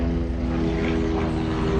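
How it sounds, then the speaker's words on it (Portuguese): A helicopter passes overhead near an airstrip at a mining site, its steady, loud rotor and engine drone filling the whole stretch with a dense, unbroken roar. "Aqui é uma passagem de helicóptero, porque a gente está perto de uma pista"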